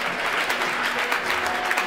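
A church congregation bursts into sustained, dense applause and cheering in praise, a steady wash of clapping hands filling the room for the whole moment without pause.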